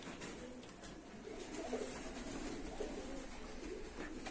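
Tumbler pigeons coo softly inside a small loft, low murmuring calls rising a few times over a faint, noisy room background.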